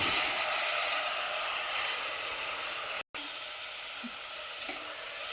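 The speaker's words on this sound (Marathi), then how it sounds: "हे पण असं छान असं मिक्स करून घ्यायचं हलवायचं एक मिनटासाठी" Washed rice, dal and potato being stirred in a pot, with a steady hissing sizzle and scraping throughout, broken by a brief silent gap midway.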